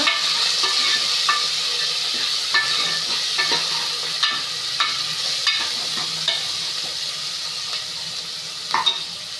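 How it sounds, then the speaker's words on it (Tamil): Sautéing in a pan, lightly salted, for a mutton curry, a loud steady hissing sizzle close up with scattered soft stirring scrapes and clicks running throughout, with no talking. "லைட்டாக நாங்கள் கொஞ்சம் சால்ட்டு தூவி விட்டுட்டு வதக்குறோம்"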